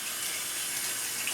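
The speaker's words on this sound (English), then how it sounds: "I'm going to rinse my knife off real quick." A kitchen tap runs in a steady, close rush of water as a knife is rinsed under it, brief and unbroken with no voices.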